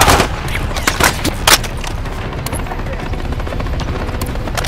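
Helicopter in Call of Duty Modern Warfare 3 during a combat mission, a loud continuous rotor roar with sharp bursts of gunfire early on and a busy battle backdrop.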